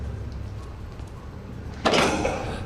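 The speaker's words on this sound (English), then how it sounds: "How do I close doors," Door in the video game Outlast shutting loudly, a sudden heavy bang partway through after quiet ambience, trailing into a rattling decay.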